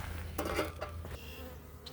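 Honeybees hum softly during a transfer from nucs into hives, a faint close buzzing with a few brief louder wingbeat swells and light rustling.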